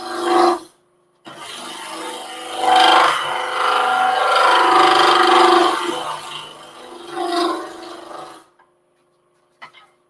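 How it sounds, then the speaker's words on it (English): A split carbide woodturning tool scrapes across a spinning piece of resin and wood in several rasping passes of varying length, loud and close, with short pauses between cuts. "I use the split carbide just to get it down to where I want it."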